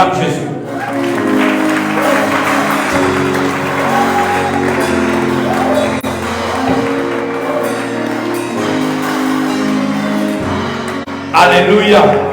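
A church congregation applauds and cheers for Jesus during a sermon, a loud, sustained roar of many voices shouting and clapping that swells near the end.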